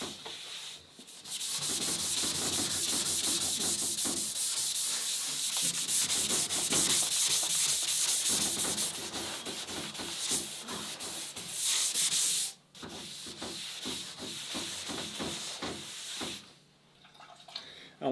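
Cloth wiping across a freshly varnished deck of an International 2.4mR sailboat, with long continuous rubbing strokes broken by brief pauses, close and fairly loud.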